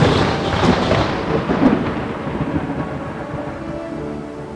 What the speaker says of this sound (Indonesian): Sebentar lagi kayak mau hujan.